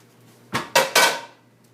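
A metal frying pan is pulled out of a low kitchen cupboard, giving three quick clanking knocks of cookware, close and bright, with ringing that fades afterward.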